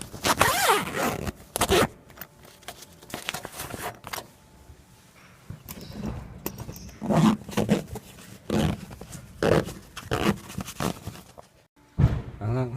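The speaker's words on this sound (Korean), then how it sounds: "지퍼를 내려주시고" A zipper on the upper part of a slide-out tent on a camping trailer is unzipped in several rasping bursts of varying length, close and fairly loud, with pauses between pulls.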